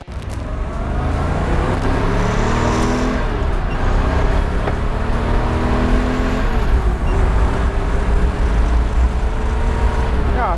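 A 1964 blue Corvette convertible engine revs close up, climbing and falling through several throttle blips over a steady idle rumble, loud and unbroken with no talking.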